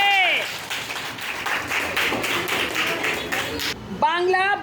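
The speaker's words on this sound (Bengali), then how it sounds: "জোরে একটা হাততালি হবে" Students in a classroom clap loudly together for about four seconds as a burst of applause, with a voice speaking before and after.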